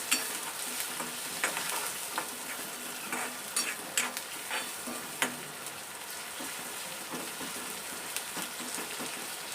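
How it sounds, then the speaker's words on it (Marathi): Onion and curry leaves sautéing in hot oil in a pan give a steady, close sizzle, with a scattering of sharp spatula scrapes and taps throughout and no voices. "आपण मस्त कांदा परतून घेणार आता"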